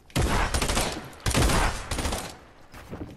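Burst SMG fire in Fortnite, two loud sustained volleys of rapid shots close up, each lasting about a second, followed by a fainter trailing burst.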